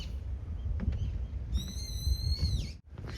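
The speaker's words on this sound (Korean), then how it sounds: "새소리 예쁘다" A bright bird call rings out over steady outdoor background noise on Odongdo Island in Yeosu, South Korea, holding a high tone for about a second before dipping away.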